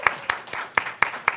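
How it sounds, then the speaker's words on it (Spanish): Sparse, scattered handclaps from a small audience at a book presentation at the FIL Guadalajara book fair, about six separate claps over a second and a half with no dense applause building. "un aplauso nuevamente a José Ignacio"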